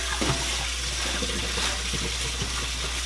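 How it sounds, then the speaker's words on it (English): Cold tap water running over cooked mostaccioli pasta in a kitchen sink, a steady loud rushing splash that holds for the whole stretch without pause. "Now I'm going to rinse it down with cold water."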